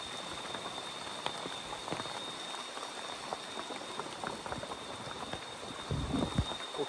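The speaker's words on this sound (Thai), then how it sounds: "โอ้ยฝนตก" Steady light rain pattering outdoors at a forest cooking camp, a dense continuous crackle of drops with a thin high whine running underneath and a few louder drips near the end.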